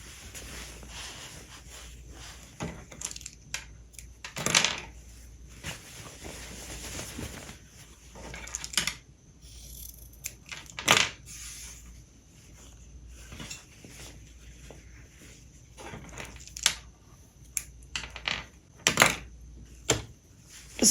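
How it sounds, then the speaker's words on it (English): Scissors trim the fabric corners and loose threads of a sewn tote bag, giving sparse, sharp snips scattered across a quiet room, some close and crisp, others faint. "I'll give these corners a little trim so they're not too bulky, and I'll cut my loose threads"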